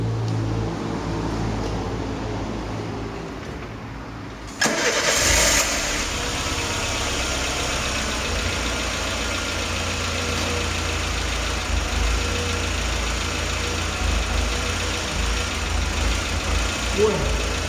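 Car engine started for an alternator test with electrical systems switched on, catching with a sudden jump in loudness partway through and then settling into a steady, loud idle that runs to the end.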